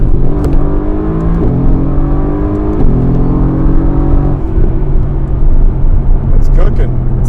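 A 2018 Mercedes-AMG GT R launches hard from a standstill, its engine rising in pitch through first gear with a steady, loud climbing drone, heard from inside the car, with people talking over it.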